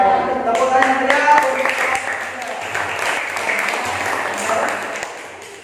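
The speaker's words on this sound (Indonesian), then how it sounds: "Tepuk tangan ya." A classroom audience claps after a class presentation, steady applause from many hands lasting several seconds and slowly tapering off, with voices mixed in.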